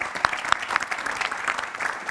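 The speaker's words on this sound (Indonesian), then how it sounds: "tepuk tangan untuk Pak Habib" Applause from a TV talk-show studio audience for a guest in an Indonesian political debate, steady dense clapping with a few sharp louder claps standing out near the start, filling the short moment without speech.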